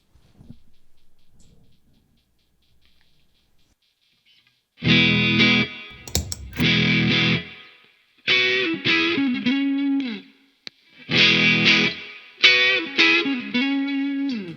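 Distorted electric guitar through a Nobels ODR Mini overdrive pedal set fully dark, several chord bursts with short gaps, a thick, dark overdriven tone, loud and close, after a few quiet seconds.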